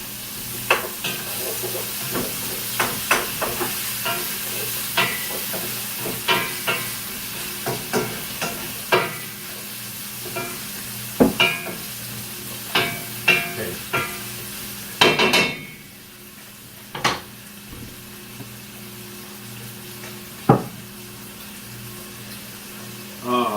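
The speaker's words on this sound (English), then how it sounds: "to wait for that to simmer together" Bacon and celery root hash simmers in a cast iron pan, giving a steady low sizzle broken by repeated clicks and scrapes of stirring, with a brief louder burst of hiss partway through.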